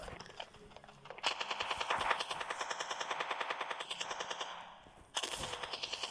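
Rapid automatic gunfire from a video game crackles in a steady, fairly quiet stream, then a second burst starts sharply near the end.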